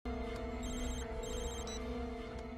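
A phone rings in a TV drama scene, a steady electronic ringtone pattern repeating in short bursts over a continuous background tone, moderately loud and close.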